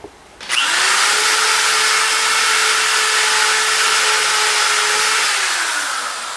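A power drill bores a 1/8 inch hole in wood while building a skiff, starting with a short burst and then settling into one steady, loud, close whine that runs without a break.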